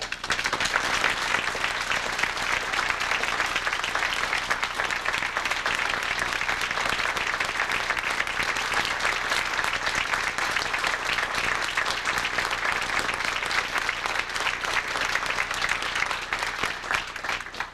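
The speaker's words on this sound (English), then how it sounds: "Give you a round of applause." Sustained applause from an audience of about 125 people at the 2003 Shad Derby Gala, a dense, steady wash of clapping that holds loud and even for the full stretch before tapering at the very end.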